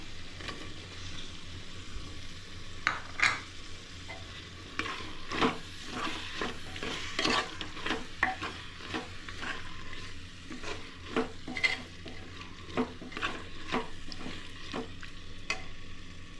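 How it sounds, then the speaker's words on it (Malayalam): Chicken curry being stirred in a pot, with tomato being added, gives repeated scraping and clacking strokes over a steady low sizzle, close and fairly loud with an uneven rhythm and no talking. "ചിക്കൻ നന്നായി മിക്സ് ചെയ്തു"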